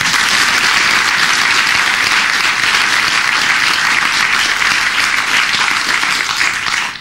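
A theatre audience at a performance of Les oeufs de l'autruche by the Les Baladins troupe applauds an actress. Loud, dense, sustained clapping fills the whole seven seconds and tapers slightly at the very end.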